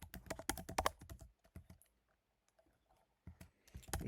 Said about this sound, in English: So let's type in an example.